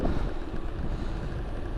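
Steady wind buffeting a small Insta360 Go Ultra action camera mic while riding at speed on a windy day, a continuous low rumbling roar with no voices.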